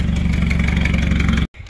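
A Nissan Silvia's FJ20ET engine runs loud and close with a rapid, pulsing exhaust rumble, then cuts off abruptly near the end.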